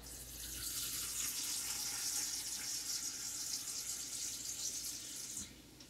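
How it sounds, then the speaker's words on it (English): Water poured from a cup into a pot of black bean soup: a soft, continuous splashing pour lasting about five seconds, fairly quiet and heard alone. "we're gonna fill it up with water, 1 cup of water"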